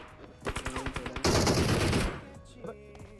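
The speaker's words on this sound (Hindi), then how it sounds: "गन साउंड आते हैं हमें" Gunfire in the PUBG Mobile video game: a quick series of sharp single shots, then a dense, loud automatic burst that fades out, with a couple of faint pops after.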